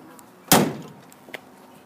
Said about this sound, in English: Gotta shut the doors harder than I would like to